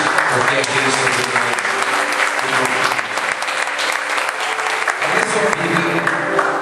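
A church congregation applauds steadily throughout, a thick, continuous wash of clapping with a voice carrying on underneath it.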